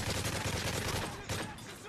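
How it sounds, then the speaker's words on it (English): Video game gunfire in Call of Duty: Modern Warfare 3 Special Ops, a dense, continuous barrage of shots and bursts filling the whole stretch at close range, with a brief louder flurry near the end. "Trying my best to shoot at them."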